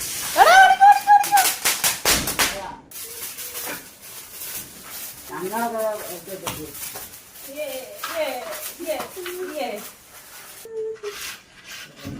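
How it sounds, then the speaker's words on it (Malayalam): A quick cluster of sharp firecracker bangs bursts early on during Vishu festival celebrations in Kerala, followed by people talking and calling out nearby. "അച്ചാടെ പടക്കം പൊട്ടിക്കുന്നു"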